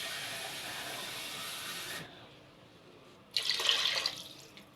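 Tap water pours onto washed rice for Egyptian rice pudding in a home kitchen: a steady hissing stream for about two seconds, a short pause, then a louder, splashier second pour.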